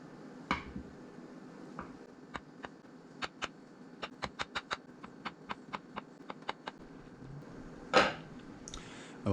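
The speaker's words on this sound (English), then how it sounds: "We just want to take a fork and go all the way through and make a pattern all the way across" A fork poking holes through a baked cake for a lemon-lime Jello cake: a run of about twenty light, quick clicking taps in an irregular rhythm, close by, with a louder clatter near the end.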